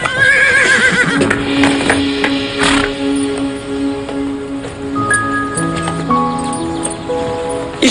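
A horse named Fernand whinnies in a stable scene, the call rising over a busy backdrop of background music and faint rustling, steady and fairly loud throughout.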